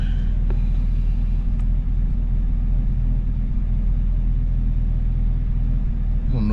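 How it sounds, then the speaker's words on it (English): Chevrolet Camaro ZL1 exhaust in a parking garage, a loud steady low rumble that echoes off concrete, with a brief revving surge near the start and a swell at the very end. "Like I blip that throttle for like 2 seconds, and it roars and when you got it in sport mode"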